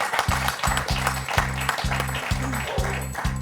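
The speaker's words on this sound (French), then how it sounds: "on peut l'applaudir" A TV quiz show studio audience applauds a contestant, a continuous, fairly loud clapping wash laid over a pulsing, rhythmic music jingle.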